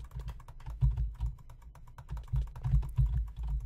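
Rapid, continuous keyboard and mouse clicking during a Minecraft Hunger Games fight, a dense patter of close keystrokes with a few heavier bursts, no voices.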